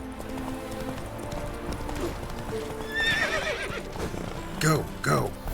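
Roach, a horse in The Witcher 3, gallops with steady clip-clop hoofbeats and lets out two loud whinnies near the end, with game voices talking over the run.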